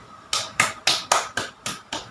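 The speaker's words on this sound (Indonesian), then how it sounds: "mari kita berikan tepuk tangan untuk semua kelompok yang sudah tampil" A class applauding groups of students after their presentations, with seven sharp claps in quick unison at an even pace, moderately loud and close.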